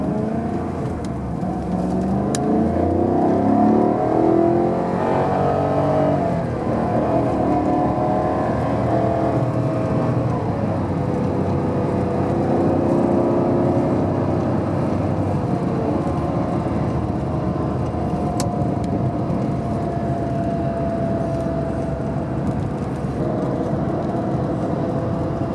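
A Maserati Quattroporte engine hums under steady driving, a continuous close drone with gentle rises and falls in pitch as the car cruises.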